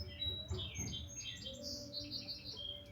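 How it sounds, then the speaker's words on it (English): Small birds chirp and tweet outside in a quick, busy run of high, clear calls, fairly close and lively against a quiet background. "I want to listen to the birds, not them hammering."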